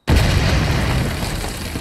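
An explosion in the sci-fi series Stargate Universe hits suddenly and loudly, then rolls on as a broad, sustained roar that slowly eases over almost two seconds.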